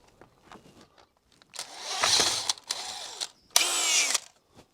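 A power drill boring through the body of a double-glazed window frame during installation, in two loud close bursts of whining and grinding separated by a brief pause, with quieter knocks and handling sounds before.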